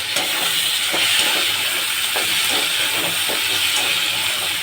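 Mutton frying in a pan with tomato, whole garlic cloves and sugar, stirred while it sizzles in a loud, steady hiss with faint scraping taps underneath.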